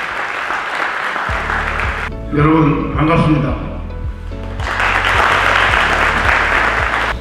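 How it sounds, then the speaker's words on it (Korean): Audience applause at a book launch celebration for a kendo instructor, a steady wash of clapping that pauses briefly while someone speaks a greeting over a low hum, then swells again loudly. "큰 박수로 받아주시기 바랍니다."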